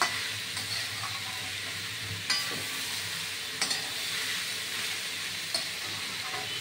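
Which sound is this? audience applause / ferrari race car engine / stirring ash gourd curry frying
stirring ash gourd curry frying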